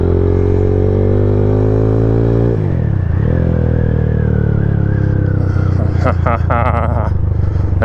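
A Dayun Flasher 200cc motorcycle engine runs loud and close, a steady low idle that dips as the revs change, then clattery mechanical bursts near the end.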